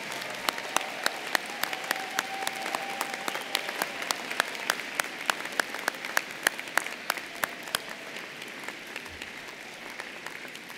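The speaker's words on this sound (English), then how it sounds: "Graduates, let's give a big round of applause in appreciation for your family and friends." Graduates at the UIC College of Business 2019 spring commencement give a round of applause, a large hall full of steady clapping with sharp individual claps standing out, sustained for about ten seconds.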